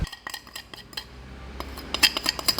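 A metal spoon scrapes and clinks against a bowl while frozen raspberries are spooned over peanut butter, giving a series of sharp, close taps and clicks that get busier toward the end.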